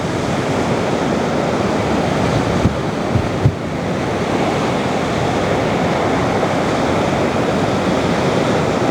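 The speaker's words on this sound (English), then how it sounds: "Hopefully you can hear the waves in the background here too." Ocean surf rolls in the background, a loud, steady wash of waves with no voices, broken only by a couple of brief soft knocks.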